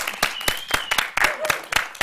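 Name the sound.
applause at awards night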